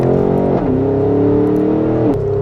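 A 2021 Porsche Cayenne GTS engine held on the throttle with an 8-speed Tiptronic gearbox, a loud, steady tonal drone that drops sharply as gears shift, recorded close and with no talking.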